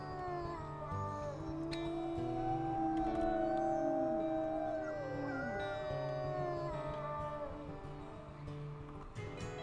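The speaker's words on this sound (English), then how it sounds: "Do our secondary howl because it's a little bit shorter." A shorter secondary wolf howl in a video game: a loud, sliding tonal howl with layered wavering voices that swell and then drop away, over a steady low hum.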